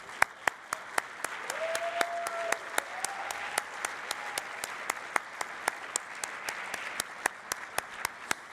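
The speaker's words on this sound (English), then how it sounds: "we'd like to give you a round of applause" A crowd claps steadily with sharp, evenly spaced hand claps standing out above the rest, sustained applause with no talking.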